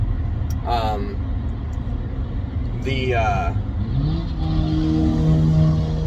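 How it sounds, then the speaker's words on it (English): Loud, unmuffled car engine revving in a Mission Impossible – Dead Reckoning action sequence, rising and roaring beneath overlapping talk for most of the clip. "get it, mufflerless car"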